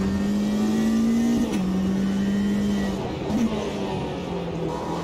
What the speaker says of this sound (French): de ce petit moteur 4 cylindres en ligne Atmo.